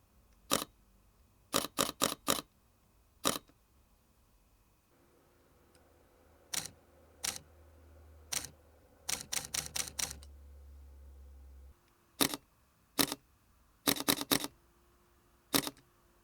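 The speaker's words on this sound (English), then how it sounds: "Let's do a quick comparison of the shutter sound from the S1R2 and the other cameras." Shutter clicks from a Panasonic Lumix S1RII and several other cameras, heard as sharp isolated clicks and quick bursts of rapid-fire shots separated by pauses, close and crisp over a faint background hum.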